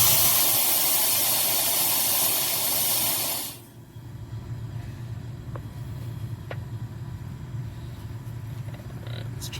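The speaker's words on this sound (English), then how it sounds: "we're getting a ton of oil blowing out there" Loud, steady high-pitched hiss of oil spraying out of a Trane package AC unit for about three and a half seconds, then cutting off abruptly to a lower mechanical rumble with a couple of faint clicks.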